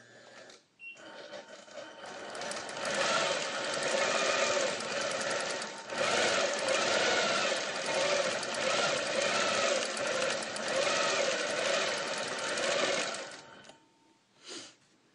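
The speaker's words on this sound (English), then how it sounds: "I'm going to stitch another snowflake." A sewing machine quilts a snowflake design, its needle running in a steady, fast rapid-fire chatter that pauses briefly once and stops near the end, loud and close with no talk.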